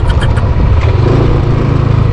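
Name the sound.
motorcycle engine riding on bypass road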